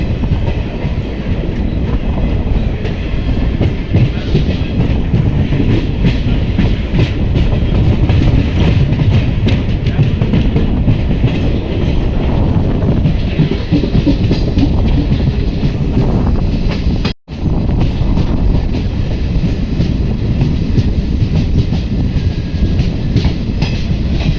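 A train rumbles and rattles loudly and continuously nearby as it enters Dupadu railway station, with rhythmic clatter of wheels and wind noise and a brief dropout partway through.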